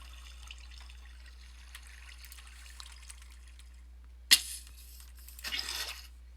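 Water in a Minecraft hardcore survival game, with a sharp splash midway followed by a short burst of pouring or flowing water near the end over a quiet background.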